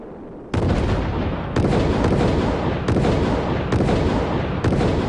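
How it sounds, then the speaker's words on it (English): A rapid series of about five loud, booming blasts propels a Project Orion nuclear-propulsion test model, each bang cutting in sharply and blending into a dense, rumbling roar. "There's a film that shows this thing going bang, bang, bang, and up it goes a ways."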